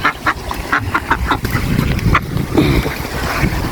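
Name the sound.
duck quacking near fast-flowing water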